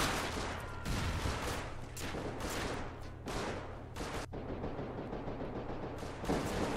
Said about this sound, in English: This compound is now the source of lots of gunfire that's going on, lots of small arms fires going on down here.